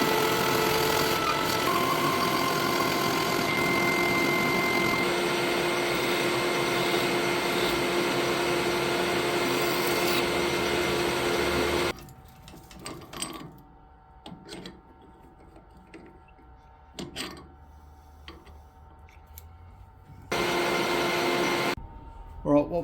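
A metal lathe cutting a 3/4 UNF thread gives a steady, fairly loud mechanical whir for about twelve seconds. It then drops to near quiet with scattered faint clicks, and the running noise returns briefly near the end.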